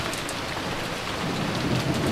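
Steady wind and heavy rain from the Umineko video game, a dense continuous wash of falling water and gusting air that swells slightly louder toward the end, with no voices.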